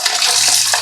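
Running water splashes continuously over raw chicken being washed, a short close rinsing sound with no voices.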